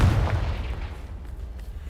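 A Confringo blast spell explodes in Hogwarts Legacy, a heavy booming burst that decays into a low rumble over a couple of seconds, loud and close with no speech.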